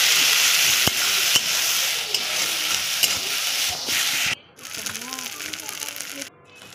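Ground mustard paste being stirred into okra frying in a pan, with steady loud sizzling, scraping stirs and a few sharp clicks of the spoon, briefly quieter near the end before the sizzle resumes.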